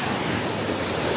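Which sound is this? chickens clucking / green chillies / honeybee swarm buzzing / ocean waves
ocean waves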